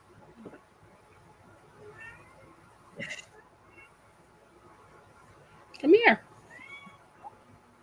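A cat meows indoors a few times, with a louder, drawn-out meow near the end, amid quiet household sounds and a person speaking.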